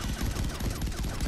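Rapid video game pistol gunfire, loud and continuous with tightly spaced shots throughout the short burst.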